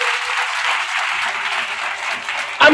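A congregation at a Friday prayer service claps and cheers together, a dense sustained wave of applause at close range that swells and ends in a sharper burst.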